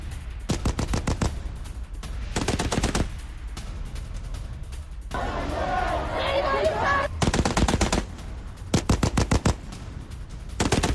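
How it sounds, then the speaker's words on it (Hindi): Loud bursts of automatic gunfire from a building window aimed at protesters in Tehran, fired in repeated rapid volleys with short gaps, and a stretch of voices and crowd noise between them. "इमारत की खिड़की से फायरिंग, IRGC जवान फायरिंग करता नजर आया।"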